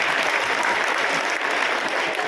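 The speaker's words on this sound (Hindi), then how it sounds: "ताली बजाओ बच्चों इनके लिए।" Children clap together at a girls' school event in a steady burst of applause that fills the whole moment, with a faint voice underneath.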